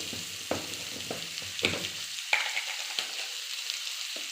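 Sliced onions sauté with a pinch of salt in a hot pan, holding a steady close sizzle broken by several scraping spatula stirs, with no voices.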